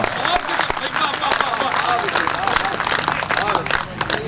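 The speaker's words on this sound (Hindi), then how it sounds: "जब साउंड वाले और कैमरामैन ताली बजाने लगे" An audience at a Hindi poetry recital claps steadily throughout, a dense wash of many hands applauding together, loud and continuous.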